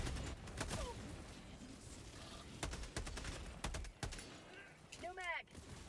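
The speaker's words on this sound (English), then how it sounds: "What is shooting at us? It's automatic, guys." Automatic gunfire in the online shooter Helldivers 2, played on an Xbox controller, comes as several sharp bursts of shots scattered through the clip, mixed with game noise and a short rising electronic sweep near the end.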